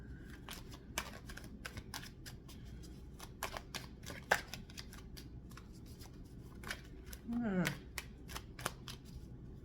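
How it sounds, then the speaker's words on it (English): Quiet, repeated card clicks and riffles spread steadily through the clip, with a brief murmur of voice near the end. "Having trouble shuffling now."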